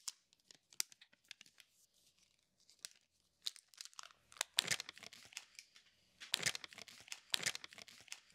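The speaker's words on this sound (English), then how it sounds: "They always want me to just rip it open." Cardboard and plastic packaging of a MacBook M1 Max box being torn and crinkled open, with scattered close tearing bursts that grow denser and louder toward the end.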